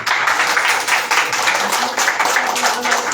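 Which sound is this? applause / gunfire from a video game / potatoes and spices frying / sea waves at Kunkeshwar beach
applause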